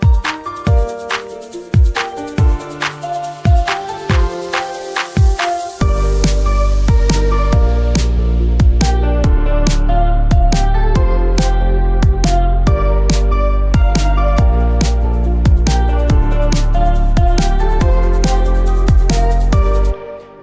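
Electronic music section built on a deep sub bass and a gritty Reese bass, opening with sparse punchy hits before a continuous heavy low bass layer enters under steady rhythmic percussion, loud and dense with no voices.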